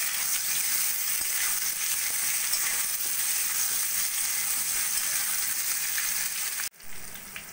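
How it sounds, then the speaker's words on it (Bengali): Cut mango pieces frying in hot oil with spices for a mango pickle, a loud continuous close sizzle that holds steady, then briefly cuts out and returns softer near the end as the pieces are stirred. "দিয়ে ভালো করে তেলে আমি ভাজা ভাজা করে নেব।"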